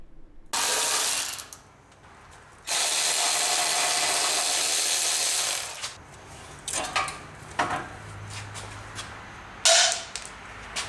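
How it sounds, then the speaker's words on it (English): A Milwaukee 3/8-inch electric ratchet turns header studs on a V8 fourth-generation 4Runner, whirring close up in two sustained bursts, followed by scattered metallic clicks and clanks. "It also helps to have an electric ratchet. I have a 3/8 Milwaukee."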